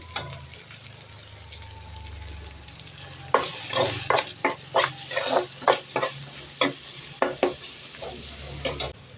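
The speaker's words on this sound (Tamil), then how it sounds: "இப்போ தக்காளி நல்லா வதங்கி வரட்டும்." Tomatoes sizzle in a hot pan with salt and turmeric while a utensil scrapes and clatters in repeated stirring strokes, close and clear.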